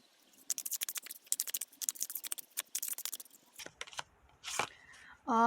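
Tarot cards are shuffled and drawn in a run of quick, crisp riffling and slapping bursts. The bursts thin out toward the end, followed by a few sharper taps and a brief tonal sound.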